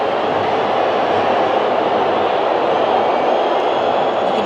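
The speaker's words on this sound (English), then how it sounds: "You can hear those boos every time the U.S. find a little bit of momentum." Stadium crowd at a women's international football match between Brazil and the USA, a dense, sustained roar of booing and jeering that fills the whole stretch without a pause.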